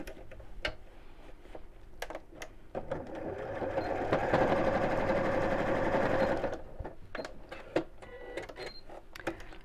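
Sewing machine stitching across the back fabric of a fabric storage box, a steady close whirring run for a couple of seconds in the middle, framed by scattered clicks and handling taps before and after.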